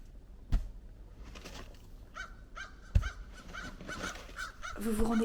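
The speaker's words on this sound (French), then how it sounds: "même les oiseaux se moquent de mon déneigement tellement il est calamiteux" Crows caw in short, separated calls across a snowy yard, a few heard close and others farther off, with a couple of soft thumps and a rising background rumble near the end.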